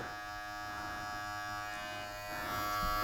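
Cheap Chinese hair clippers run with a steady, faint electric buzz and hum that grows slightly louder toward the end.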